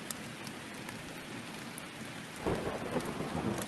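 Steady heavy rain hissing across the whole band, then a deep thunder rumble rolls in near the end and swells the downpour before it cuts off.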